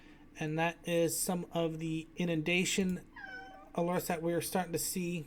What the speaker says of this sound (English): I do apologize for the cats there in the background.